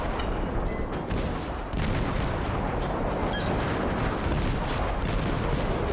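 Naval guns fire high-explosive shells in the World of Warships video game, a dense continuous barrage of booming shots and rumbling impacts that stays loud throughout with no talk over it.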